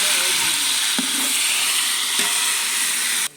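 Onions fried golden in a pan crackle in a steady, close broadband sizzle as tomatoes go in, with a few soft clatters from stirring before the hiss cuts off abruptly at the end.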